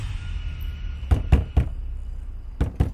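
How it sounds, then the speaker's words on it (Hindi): Loud knocks on a door come in a cluster of three sharp thuds, then a pause and two more, over a low steady background hum. "एक रात अचानक हमारे दरवाजे पे एक तेज खटखटाहट सुनाई दी"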